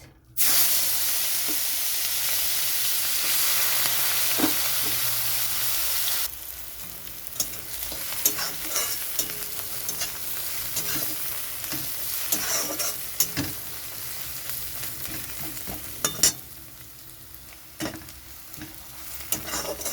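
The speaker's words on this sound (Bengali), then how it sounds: "মাছ ভাজার তেলটা রয়েছে, তো এই তেলের মধ্যেই আমি দিয়ে দিচ্ছি পেঁয়াজ" Sliced onions sizzle and fry steadily in hot oil left over from frying bhola fish for a kalia, a loud continuous crackle close by with occasional stirring scrapes and no talking.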